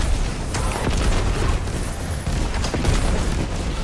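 Rockets detonate in rapid succession in the shooter game Destiny 2, a loud, dense barrage of booming blasts filling the whole span with no voices.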